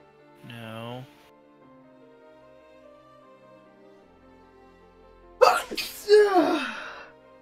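A single sharp human sneeze near the end, loud and close, after a short voiced sound and quiet background.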